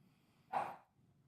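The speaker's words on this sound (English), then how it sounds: "If you can hear my dog barking" A single loud bark from a dog indoors at home, one sharp burst lasting under half a second against quiet background noise.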